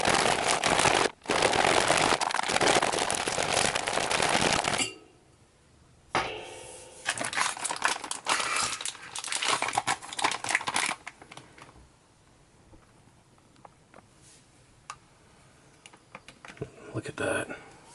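An MRE pouch holding a chocolate protein drink is shaken hard. Dense crinkly plastic rattling comes in loud bursts, breaks off abruptly and returns in choppier, softer spurts.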